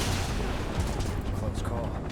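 Gunfire from soldiers in Final Fantasy VII Remake, a dense continuous barrage of shots and booms filling the whole moment, loud and close.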